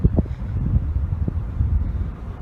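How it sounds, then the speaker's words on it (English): Gusty wind buffets the microphone outdoors beside a closed Toys R Us store in St. Peters, Missouri, with low rumbling bursts and rustle throughout, fairly loud and close. "Sorry if there's wind."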